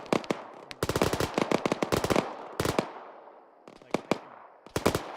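Gunfire in the military game Arma, rapid bursts of automatic weapon fire in several clusters with short gaps, loud and close, no talking.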